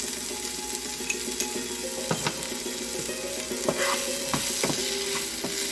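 Ginger and chili fry in a pan for palak paneer, a continuous close sizzle with scraping strokes of a spoon stirring through the oil, no voices over it.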